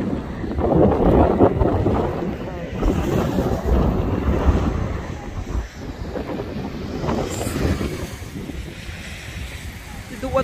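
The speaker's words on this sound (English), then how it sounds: "Oh my god, it's so windy." Strong wind buffets the microphone outdoors on a North Wales country road in a steady, loud rumble, with rain, surf or water noise beneath and a voice speaking briefly.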